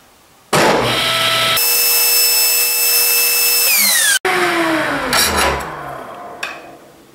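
Power saw spinning up and holding a loud, steady whine while making a light skim cut along an acute angle jig, then cutting off abruptly and winding down with a falling tone and a few clatters.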